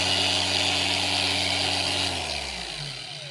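A Bauer 20V cordless 4-1/2 inch angle grinder runs at a steady loud whine with no load, then begins to spin down toward the end.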